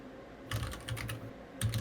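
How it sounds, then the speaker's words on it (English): Quick bursts of typing on a computer keyboard, with two clusters of close, soft clicks separated by a short pause and no talking. "I'm just typing stuff."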